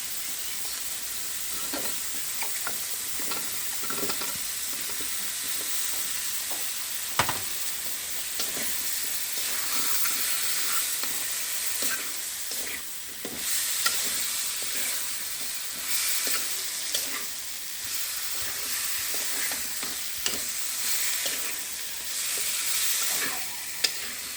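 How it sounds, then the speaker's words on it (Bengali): Cut taro sizzles and fries in a pan while being stirred, a continuous close hiss with scattered scraping clicks from the utensil and no voices. "এখন কেটে রাখা যে কচুটা আছে সেটা এখন দিয়ে ভালোভাবে কষিয়ে নেব"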